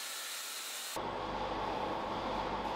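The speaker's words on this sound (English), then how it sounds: "Now, you can see the production line in our factory." Production line machinery in a pet toy factory makes a continuous, loud, hissing mechanical rush that abruptly shifts to a fuller, lower roar about a third of the way in, steady and unbroken with no voices.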